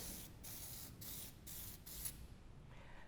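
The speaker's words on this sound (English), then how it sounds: "I'm going to go around one more time with brake clean" An aerosol can of brake cleaner sprays onto an engine timing cover in several short, hissing bursts, evenly spaced and close by, then a longer trailing hiss.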